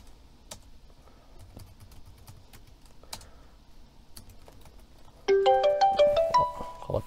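A phone ringtone plays as a call is placed during a live stream, a bright repeating melodic tone entering loudly after several seconds of scattered keyboard typing and clicks, close and with no talking.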